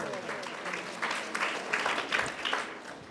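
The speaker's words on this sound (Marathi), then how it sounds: "ज्यांनी वाचली आहेत त्यांच्यासाठी जोरदार टाळ्या वाजवा एकदा." An audience at a Shiv Jayanti lecture claps for the people who have read the books, a short burst of steady, moderately loud applause from a room full of listeners.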